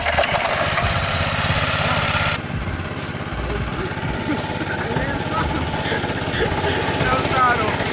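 Small mini bike engine running through mud in Florida, a steady loud buzzing drone throughout with rough low chugging, shifting slightly in tone partway; people talk over it.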